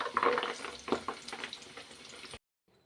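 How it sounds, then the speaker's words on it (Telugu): Round balls of broccoli snack mix deep fry in hot oil with a soft, crackling bubbling sizzle, faint and close, then cut off abruptly into silence, with no voices. "డీప్ ఫ్రై చేయాలి"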